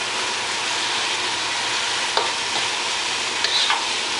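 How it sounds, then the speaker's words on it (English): Mee goreng noodles and prawns stir-fry in a hot pan with a steady broadband sizzle, punctuated by a few scraping stirs near the middle and end. "Continue stirring because I would like it to be absorbed all at the same time."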